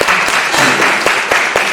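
Short burst of audience clapping at a Korean legislative lecture, a thin scattering of hands with a few sharper claps standing out, close and brief.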